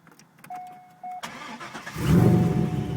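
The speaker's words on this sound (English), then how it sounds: "this first video is gonna be a startup of my C5 Z06" A modified Corvette C5 Z06 engine cranks briefly, then catches and fires up into a loud, rumbling idle with a deep, rough tone.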